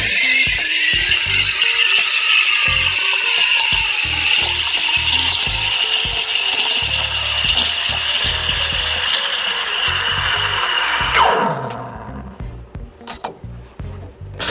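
An espresso machine steam wand steams milk for latte art, a loud continuous hiss with fine squeaky chirps and gurgling as the tip skims the milk, then the steam cuts off and fades to quieter sputtering near the end.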